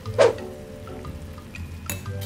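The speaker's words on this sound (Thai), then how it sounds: "และอกไก่ ได้ลงไปในกระทะ ร้อนๆพร้อมกับหัวหอม" Chicken breast hits a hot pan with onions with a brief loud sizzle, followed by soft frying hiss and a light clink of a utensil against the pan.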